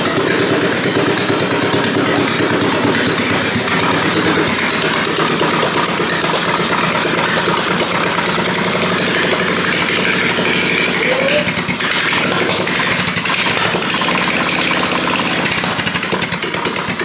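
A half-scale NASCAR race car engine runs with no exhaust fitted, a loud, harsh, raspy mechanical rattle held steady and close for the whole stretch, with no talk over it.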